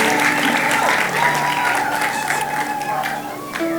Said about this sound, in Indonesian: Boleh kasih tepuk tangan buat mereka